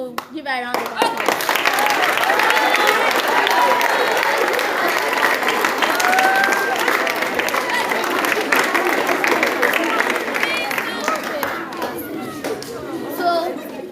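Schoolchildren at a farm awareness event break into loud, sustained applause after a brief lead-in, with clapping, excited shouts and children's chatter that tapers slightly toward the end.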